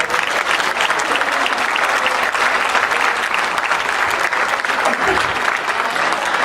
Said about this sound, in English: Let's give these guys a round of applause for helping out.